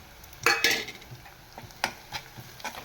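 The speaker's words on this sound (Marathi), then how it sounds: "हे मसाले छान तेलावर परतवून घ्यायचे" Spices tossed into hot oil in a pan, giving a few short bursts of sizzling and stirring clatter, the loudest near the start, then smaller scrapes and hisses.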